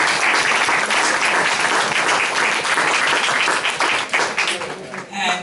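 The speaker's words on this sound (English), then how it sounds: "that's a huge round of applause" A school board meeting audience breaks into sustained, dense applause that carries steadily throughout and begins to thin toward the end.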